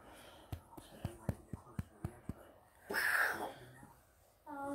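A single sneeze bursts out mid-clip, preceded by a series of soft clicks and breathy sounds, close and fairly quiet, with a brief voice starting just after.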